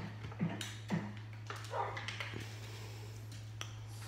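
A dog in the Minecraft video game, played with a realistic texture pack, gives a few short, soft yips and whimpers in the first second, then quieter scattered sounds over a steady low hum.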